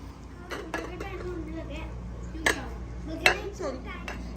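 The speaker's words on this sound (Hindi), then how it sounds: "मानो जो है वो योगर्ट मिक्स कर रही है" A spoon stirs yogurt in a bowl, giving a few sharp clinks and scraping taps against the dish while people talk over it nearby.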